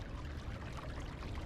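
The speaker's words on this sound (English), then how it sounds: "Look at the creek." Creek water flows on a cold morning walk with patches of ice about, a steady, soft rushing wash that holds faint and continuous, with no talking over it.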